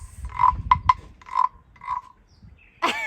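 A voice imitates a frog, giving a run of short, throaty croaks in uneven bursts, then a higher rising call at the end.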